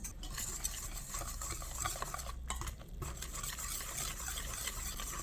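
Pancake mix, one egg and water are whisked into a thin batter for a Korean seafood and green onion pancake, giving a steady, close, wet stirring and sloshing that runs without a break.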